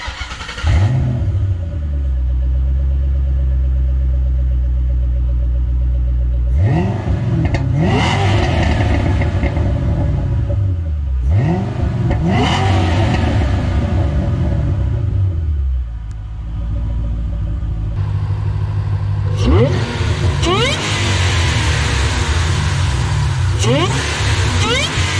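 A mostly stock Ford car engine cranks and fires, then revs in several loud rising bursts that settle back to a rumbling idle between throttle blips, with talk faintly underneath.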